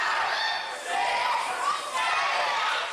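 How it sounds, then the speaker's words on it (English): A wrestling crowd at a Wrestle Island event counts along, a dense, loud wall of shouting voices that holds steady for a few seconds with small dips in level. "The crowd are counting, but the crowd don't matter."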